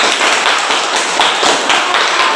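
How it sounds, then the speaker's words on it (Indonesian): A classroom of pupils claps their hands together, a bright, busy patter of many overlapping claps with a loose pulse, close and loud. "Oke, tepuk tangan."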